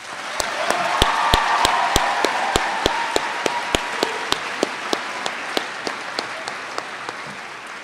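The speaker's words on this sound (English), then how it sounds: "A round of applause." A convention audience applauds in a dense, steady wave of clapping at a state association session, with sharp individual claps standing out near the front before the applause gradually thins toward the end.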